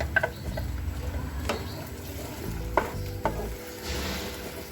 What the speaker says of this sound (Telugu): ఇది బాగా పచ్చివాసన పోయేదాకా వేగనియాలి.